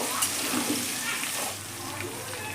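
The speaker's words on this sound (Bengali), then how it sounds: "রসুনটাকে হালকা নেড়ে নেব" Seven to eight garlic cloves sizzle in hot oil at the start of a mutton curry, a steady close hiss of frying that continues for a few seconds with no talking.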